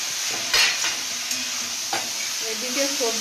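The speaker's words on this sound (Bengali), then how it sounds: "এদিকে সবজিটা ভালোভাবে কষিয়ে নিয়েছি, কষাতে কষাতে অর্ধেক সেদ্ধও হয়ে গেছে দেখছি।" Vegetables being stir-fried down in a pan for a curry until half-cooked, a steady close sizzle with a few scraping stirs of the spatula, no voices.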